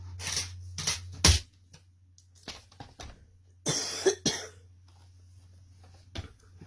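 A person coughs repeatedly in short, harsh bursts and pairs with quiet gaps between them, close by, over a low steady hum, with no talking.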